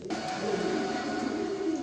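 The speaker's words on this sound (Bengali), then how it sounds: "এক জোড়া চুইঠাল কবুতর ডিসপ্লের খাঁচা এখন দিব আপনারা দেখেন" A pair of Chuithal pigeons in a display cage gives low, soft cooing over a steady background hum. The calls are close but quiet and run continuously.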